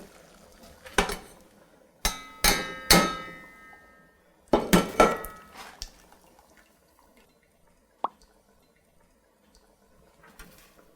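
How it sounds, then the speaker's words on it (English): Cooked pasta is strained in a kitchen, with a burst of pouring water followed by several sharp metallic clanks and knocks of a pot and strainer, close and fairly quiet, ending in a lone clink and silence. "When I'm straining my pasta"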